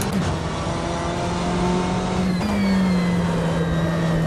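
A GTE race car engine roars continuously in the rFactor 2 sim racing game, a loud, close guttural drone with a steady rising pitch shift partway through, heard alone without talk.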